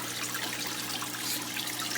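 Steady running water from an aquarium waterfall tank system in a home fish room, a continuous bright trickle and splash with a faint low hum underneath, no voices.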